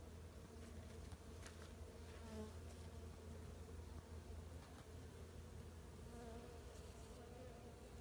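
Honey bees swarming around a beehive, a continuous low buzzing drone with overlapping wingbeat hums and occasional brief passes, fairly faint and steady throughout with no talking.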